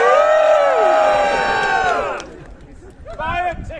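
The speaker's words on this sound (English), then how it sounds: "And the crowd would go wild and cheer!" A crowd cheers and shouts loudly, a sustained roar of voices with whoops that fades after about two seconds, leaving scattered voices, then a brief renewed burst of shouting.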